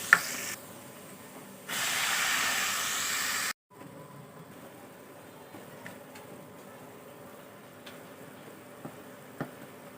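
Chopped onions hit hot oil in a wok, giving a loud, steady sizzle that swells for about two seconds and then cuts off, followed by quieter crackling and faint ticks.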